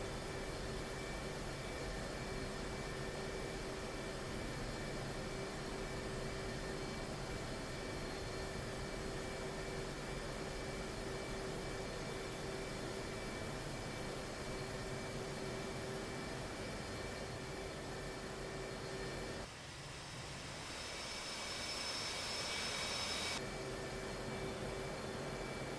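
An F/A-18 jet in the DCS flight simulator roars steadily on a runway takeoff, a constant loud engine drone with a brief surge of rushing noise near the end as thrust builds.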